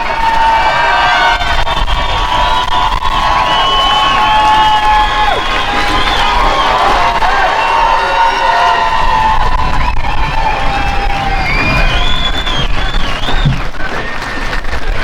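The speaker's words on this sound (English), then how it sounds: "Let's give him a round of applause, everybody." A rally crowd cheers, whoops and applauds as Maxime Bernier is brought up to the stage at a political event. The noise is loud and continuous throughout, with shouts and whistles rising above the steady clapping.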